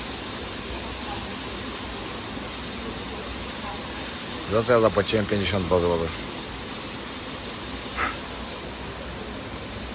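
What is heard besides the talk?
flowing stream water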